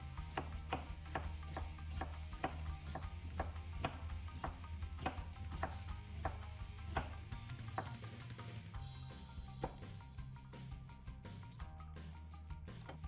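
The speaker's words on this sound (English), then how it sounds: "Cut onion 2mm width." An onion sliced into 2 mm strips with a knife, heard as a fast, steady series of crisp chopping taps on a cutting board that keeps a regular rhythm throughout.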